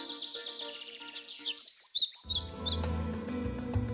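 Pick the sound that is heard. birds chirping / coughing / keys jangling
birds chirping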